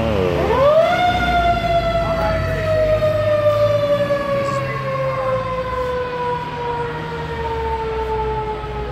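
A vintage fire engine siren sounds in a classic car collection. It winds up quickly to a loud, piercing wail, then slowly falls in pitch over several seconds, heard alone and close.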